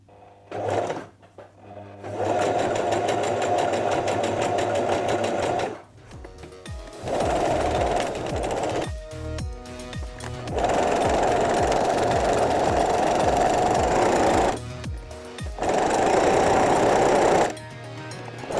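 A sewing machine stitching jersey fabric with a stretch stitch runs in long, steady buzzing bursts of several seconds each, separated by short pauses and mechanical clicks, loud and close.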